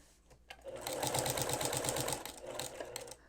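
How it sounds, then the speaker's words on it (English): A sewing machine fitted with a walking foot runs fast in a steady, rapid rhythmic whir with repeating stitch clatter, loud and close, starting after a brief pause and continuing without talk. "With a walking foot, you don't want to sew like your hair's on fire. I'll show you what happens if you try."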